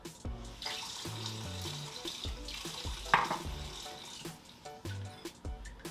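A short splash of water poured into a bowl of egg white, with faint kitchen clatter and a steady background hum.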